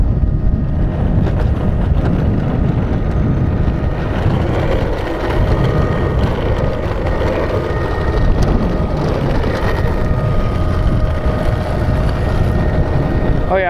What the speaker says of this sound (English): It's really windy for me.